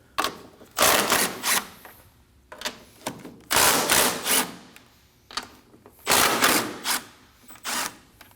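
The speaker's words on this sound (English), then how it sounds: "using a 14mm socket, we're gonna go ahead and loosen out these three nuts" A 14mm socket ratchet loosens three top strut nuts on a 2011-2016 Kia Optima front strut and spring assembly, heard as loud, close bursts of rapid clicking separated by short pauses.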